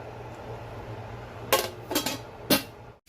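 A metal lid clanks onto a huge, deep cooking pot for a large wedding-party batch of jollof rice, three sharp clattering hits in quick succession over a low background hum, then quiet.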